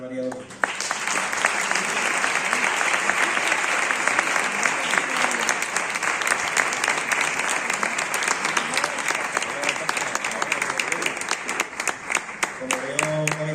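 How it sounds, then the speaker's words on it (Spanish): An audience gives a loud, sustained round of applause for a prize winner at an award ceremony. Dense clapping fills the room throughout, and voices are heard briefly at the start and end. "Un aplauso para Ana María."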